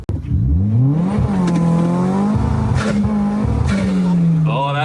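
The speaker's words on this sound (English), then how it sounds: "Let's do a takeoff from here." A modified car launches hard with a slipping clutch, its engine droning loud and close while the tires squeal and skid, with voices shouting over it.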